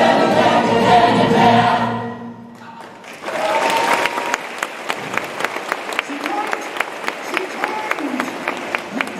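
Audience applause breaks out after a burst of music and swells into a steady field of clapping, moderately loud, with a few sharper individual claps standing out toward the end.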